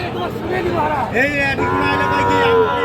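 A cow at a busy cattle market lets out drawn-out moos over a steady crowd hubbub, with people talking nearby.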